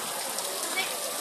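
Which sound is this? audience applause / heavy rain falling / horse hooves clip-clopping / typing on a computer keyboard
heavy rain falling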